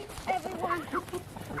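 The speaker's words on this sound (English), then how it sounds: "You're surrounded by chickens." Chickens on a chicken farm give a few brief, close clucks and murmurs while being tossed treats, with a voice faintly in the background.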